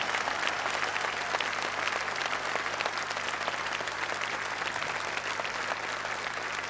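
A large audience at a motivational talk claps hard and steadily, a thick, unbroken roar of hand claps filling the space without pause.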